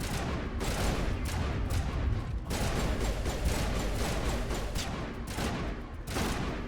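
Video game gunfire rattles in continuous bursts of rapid shots with brief pauses, loud and dense throughout.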